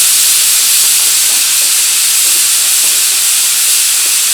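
A pressure cooker, used for cooking a banana and pea curry, vents steam in a loud, continuous hiss that stays strong and steady without a break, close by.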